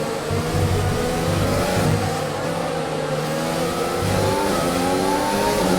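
Racing car engines in a sim racing game at Abu Dhabi roar steadily and loudly throughout, with rising and falling revs as cars chase each other closely through the final sector.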